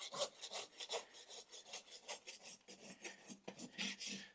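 A horse's hoof with poor conformation is rasped during trimming, giving a series of close, dry, scraping strokes in an uneven back-and-forth rhythm with no talking.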